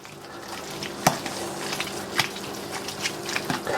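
Sweet potato being mashed with melted butter: soft wet squishing and scraping with a few sharper clicks of the masher against the pot, close and moderately loud.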